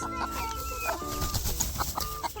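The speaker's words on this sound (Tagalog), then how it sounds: "Sana may nangitlog sa kanila guys para may ulam si Noah at Kazumi." Chickens cluck repeatedly at close range near where eggs were laid, a busy run of short clucks and calls with no talking.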